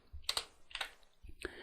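Three short bursts of clicking keystrokes on a computer keyboard while entering HTML code, quiet and close, separated by brief pauses.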